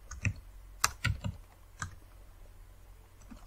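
Someone types code on a computer keyboard, producing a few quiet, irregular key clicks close by over faint background hum, with a short pause partway through.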